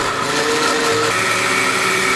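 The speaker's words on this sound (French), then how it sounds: "Mélangez le tout dans un mixeur et surtout fermez bien le couvercle." A kitchen blender whirs steadily at close range, blending apple peels with vanilla extract under a closed lid, a loud continuous motor drone with a slight shift in pitch partway through.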